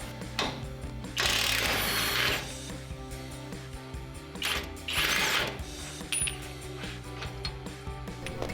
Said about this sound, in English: we're gonna take our impact here with a 19mm to undo the front and the rear bolts of the inside